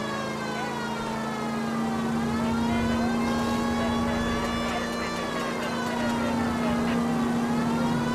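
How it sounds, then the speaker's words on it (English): A police car siren wails continuously and loudly in the 1940s Los Angeles crime video game L.A. Noire, its steady tone holding over engine hum for several seconds, close to the listener. "I've got my siren on."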